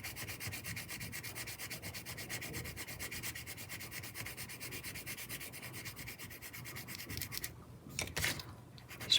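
Wooden colored pencils rub steadily across paper in fast, even back-and-forth strokes, a close, continuous scratchy shading that stops near the end, followed by a couple of brief louder scrapes.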